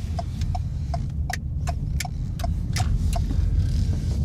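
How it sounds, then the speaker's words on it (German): Ford Focus Turnier estate with a 1.5 l EcoBoost engine rolling over cobblestones, a steady low rumble from inside the car with regular light knocks and rattles as the tyres cross the stones. "Und weiter auf Kopfsteinpflaster."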